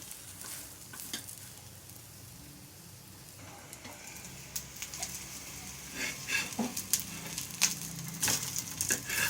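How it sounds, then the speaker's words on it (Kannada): Stuffed capsicum coated in breadcrumbs shallow-fries in oil on a flat pan, giving a steady soft sizzle with crackles and faint stirring scrapes that grow busier toward the end, with no talk. "ಹೆಂಚು ಮೇಲೆ ಶಾಲೋ ಫ್ರೈ ಮಾಡ್ಕೋಬೇಕು."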